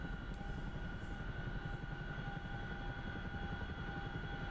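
A helicopter in the flight simulator DCS drones steadily with a constant rotor and engine roar, loud and unbroken, with no talk.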